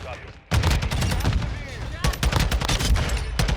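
Modern Warfare 2 multiplayer match with a TAQ 56 rifle firing rapid, loud automatic bursts up close, the sustained volleys broken by a brief gap, with some voice mixed in.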